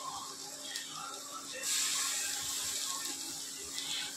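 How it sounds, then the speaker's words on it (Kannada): Water is sprinkled over crumbled roti tempering in a hot pan, giving a short hissing splash midway through a quiet kitchen background. "ಸ್ವಲ್ಪ ನೀರು ಹೊಡಿಬೇಕು ಇದ್ರ ಮ್ಯಾಗ."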